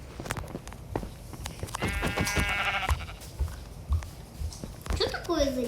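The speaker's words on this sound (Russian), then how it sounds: "Вот там овца." A sheep bleats in the video game Minecraft: one wavering bleat, moderately loud, set against in-game footsteps and ambient noise.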